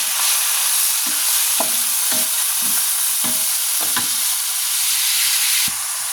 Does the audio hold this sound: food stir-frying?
yes